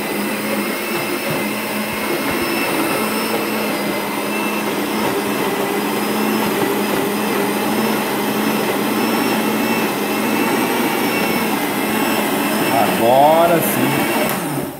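Blender whirring continuously at high speed, blending raisins into a thick homemade condensed milk, a loud, steady motor roar that lasts the whole time, with brief speech near the end.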